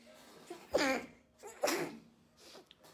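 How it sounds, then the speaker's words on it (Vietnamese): A woman sneezes twice in quick succession in a quiet room, each sneeze a sharp close burst with a short intake of breath before, followed by a softer breathy sound. "hắt xì hơi hai lần luôn"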